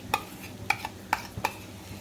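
A spoon scrapes master gravy mixture for egg curry around a pan in four quick, distinct strokes, close and moderately loud, with quiet gaps between them.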